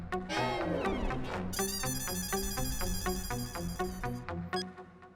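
A melodic electronic phone ringtone plays loudly and close, a repeating bright tune over a steady beat, with no voices.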